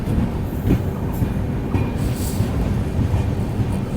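Rajdhani Express pulling out of Kokrajhar railway station, heard from on board as a steady low rumble of wagons with faint rhythmic wheel clatter, continuous and fairly loud with no voices.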